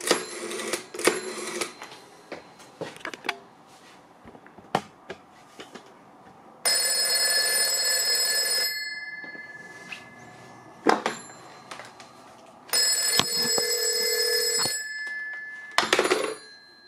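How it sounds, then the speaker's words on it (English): A black 1971 PMG 801 telephone rings its bell in the American cadence, two long metallic ringing bursts of about two seconds each with quiet gaps, set among scattered clicks and knocks from the exchange equipment. "This is going to be American ring cadence."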